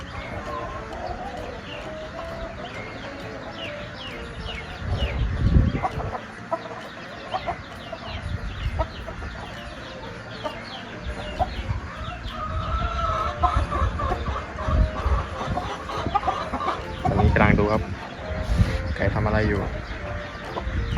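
Chickens clucking in a steady cluster of close, overlapping clucks and squawks that keep going throughout, with occasional louder bursts and people talking among them.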